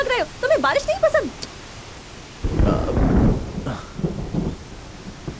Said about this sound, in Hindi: अरे, बारिश होने वाली है।